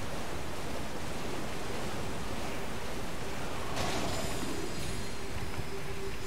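Continuous broad rushing roar of a waterfall in the video game Elden Ring, steady and dense throughout, with a slight brightening partway through and no talk.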